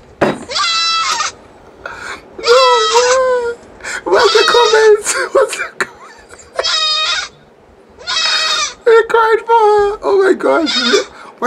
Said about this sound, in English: The lady has a goat in a car on live.